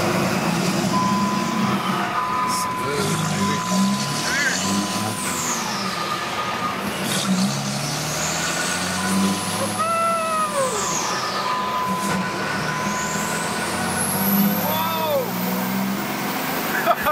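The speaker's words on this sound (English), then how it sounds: "Now, here's some raw shifting action here." A Cummins diesel dually pickup with a stock turbo and flex injectors accelerates hard, its engine and turbo whine rising in pitch then dropping at each gear shift, repeating about three times, with voices in the cab.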